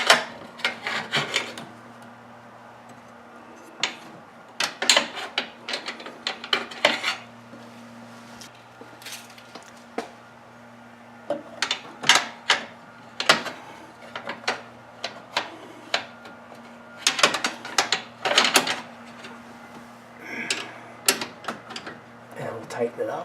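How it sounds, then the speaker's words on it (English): Metal wrench work on a garage door during repair, with repeated ratcheting clicks and clanks in short bursts over a steady low hum, fairly close. "And now we'll tighten it up all the way with the box end."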